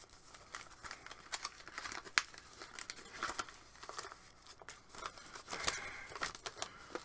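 Crinkling and ripping as a heavily taped package is torn open, with sharp tearing bursts and rustling plastic tape in an irregular rhythm, close and fairly quiet, without talking.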